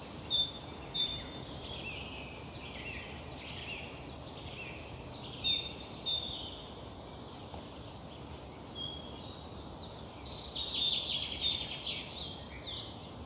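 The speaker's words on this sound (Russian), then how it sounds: "Сейчас я помолчу, чтобы вы могли услышать эту симфонию леса." Birds chirp and trill in short recurring bursts over a soft, steady outdoor hum, fairly faint and distant, like birdsong in a quiet Russian forest.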